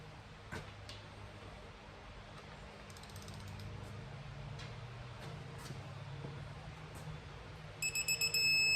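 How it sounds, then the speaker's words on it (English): Torque wrench ratcheting while torquing bolts on a Ford FE engine, a quiet run of faint mechanical clicks in a workshop with a brief quick burst of ratchet clicks near the end. "I mark every bolt as I torque it."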